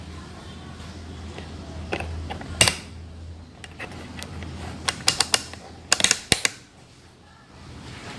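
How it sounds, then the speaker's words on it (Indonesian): Multimeter selector switch turned by hand to the ohm range, giving a string of sharp mechanical clicks and ratchet snaps, sparse at first and then clustered near the end, close and clear over a low background hum. "Jadi selektor switchnya ini kita putar ke arah ohm."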